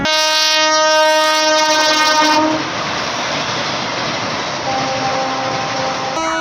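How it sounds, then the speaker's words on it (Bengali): A special inspection train sounds its horn loudly at first, then the heavy rumble and rattle of rail cars rolling slowly and steadily past close by as it enters the platform at Jayrambati railway station. "জয়রামবাটি রেল স্টেশনের সিআরএস স্পেশাল ইন্সপেকশন ট্রেন দেখতে পাচ্ছেন ঢুকছে প্ল্যাটফর্মে ধীরে ধীরে"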